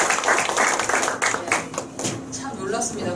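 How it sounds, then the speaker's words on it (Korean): An audience claps after a lecture by an author in a hall, steady applause of many hands running through the moment with a speaking voice partly over it. "이거 오늘 강의에서 박수 한번"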